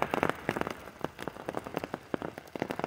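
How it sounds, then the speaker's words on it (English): Rain and hail pour down outdoors on a stormy day during fishing, dense irregular pattering and sharp ticking impacts striking nearby surfaces, loud and close, with no talking. "Hailing, pouring down rain."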